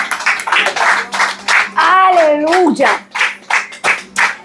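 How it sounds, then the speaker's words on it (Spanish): Rhythmic congregational clapping in a church service, steady repeated claps with a voice calling out over them and a sung or drawn-out exclamation in the middle. "Dale un aplauso al Señor."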